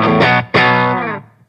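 A clean electric guitar tone through a Divided by 13 RSA 31 amp, an AC30-style amp at moderate volume: two strummed chords, the second ringing out and fading, close and loud.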